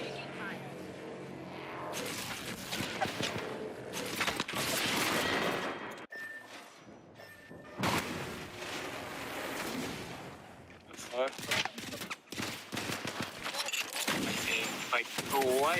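Video game gunfire with bursts of rapid shots and loud crackling volleys that stop and start across the stretch, mixed with other game noise, while someone talks over parts of it.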